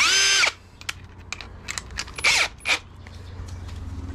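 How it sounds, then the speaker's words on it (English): A loud burst of power drilling as a step drill bores a hole to fit a Garmin 95UHD fish finder to a Frewza F15 boat, then stops, followed by scattered clicks and short mechanical scrapes. "Now we're going to hit them with a step drill."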